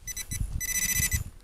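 A metal detector sweeping over a find sticking out of the ground gives a rapid series of close electronic beeps in short bursts, with low rustling and handling noise underneath.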